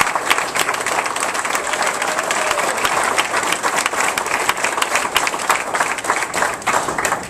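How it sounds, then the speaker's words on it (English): An audience gives military veterans a sustained round of applause, dense steady clapping filling the room from start to finish before tapering off at the end. "Let's give you a big round of applause"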